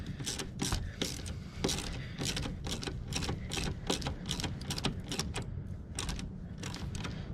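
Repeated rapid ratcheting clicks as a hose clamp on a Yanmar VIO 50-6 excavator case drain hose is tightened, a steady run of close, sharp mechanical ticks in bursts with no talking.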